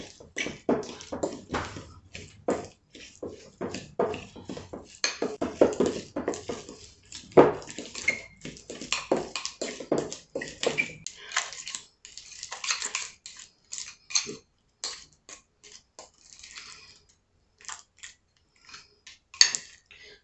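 Ingredients are mixed together in a bowl for a Sunday dinner of rib roast, cabbage, sweet potatoes and cornbread, producing a busy run of close clinks and scrapes that thin out into sparse taps toward the end.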